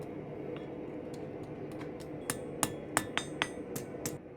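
Sharp metallic hammer strikes ring out at a forge as hot steel is tapped into a tight scroll at the tip of a tapered point, a few spaced blows over a low background hum.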